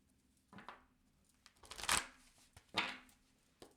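Cards riffled and shuffled in a few quick bursts, crisp fluttering rasps separated by short pauses, close and fairly quiet.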